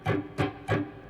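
Three quick, smeared electric guitar sweeps played without note separation, each a blurred burst of overlapping notes through an effects unit, spaced evenly and heard close and alone.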